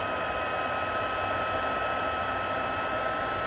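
A heat gun blows steadily close by, melting embossing powder on a handmade gold gilded greeting card, a constant loud whooshing hiss with no pauses and no talking.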